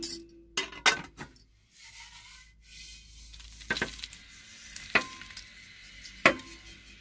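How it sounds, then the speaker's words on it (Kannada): Hot tempering (oggarane) is poured over paper poha, giving short sizzling bursts and light clinks of a utensil against a vessel, heard up close with no talking. "ಈಗ ನಾವು ಇದರ ಮೇಲಕ್ಕೆ ಒಗ್ಗರಣೆ ಹಾಕಬೇಕು"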